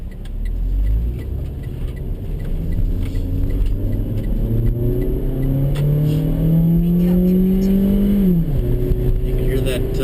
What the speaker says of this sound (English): You can hear that raw power of this van.